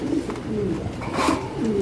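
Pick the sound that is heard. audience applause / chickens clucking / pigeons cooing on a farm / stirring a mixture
pigeons cooing on a farm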